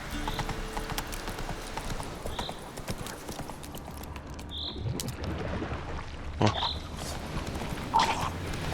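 Horse hooves clip-clop steadily in The Witcher 3: Wild Hunt as the rider's horse moves along, with creaking tack and occasional metallic ticks over a constant game ambience, and brief speech over it.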